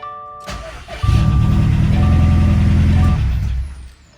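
An IAG 700 long block engine makes its first start-up, firing after a brief crank into a loud, close, steady rumble that runs for several seconds before easing off, with no talking.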